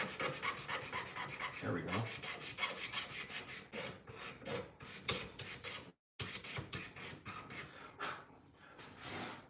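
A razor blade scrapes across a new guitar neck in quick, close, repeated rasping strokes, with a brief pause midway; a voice speaks briefly.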